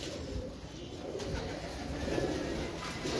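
Loft pigeons kept by a breeder coo steadily close by, a dense, continuous low murmur over a broad hiss of background noise with no pauses.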